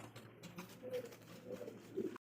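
Bombay pigeons coo softly and closely in a few short, rounded calls, quiet and intimate, with no talk.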